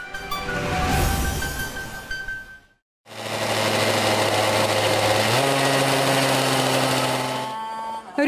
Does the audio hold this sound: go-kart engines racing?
yes